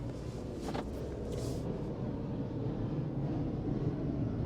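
A 2024 Rolls-Royce Ghost sedan pulls away, its smooth, steady engine and road rumble holding at an even, moderate level from start to finish with no talk.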